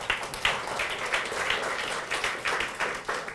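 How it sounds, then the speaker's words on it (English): An audience applauds after a talk on getting rich, with dense, steady clapping that swells in waves and fills the room for a few seconds. "Round of applause."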